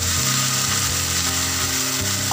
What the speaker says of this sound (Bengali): এবার পেঁয়াজটাকে মিডিয়াম ফ্লেমে ভালোভাবে ভেজে নিচ্ছি।